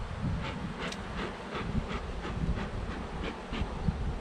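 Honeybees swarm around a hive during queen marking and splits, giving a continuous low buzz with individual bees zipping past the microphone in brief louder passes, no voices.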